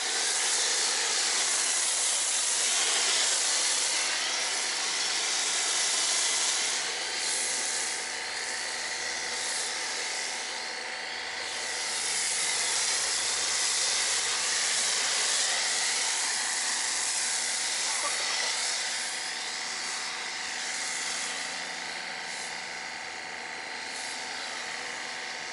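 A pressure washer fitted with a turbo nozzle sprays continuously during a wash of a Shelby GT350R, a loud, steady, high-pitched hiss and whine that swells and eases slightly as the spray moves.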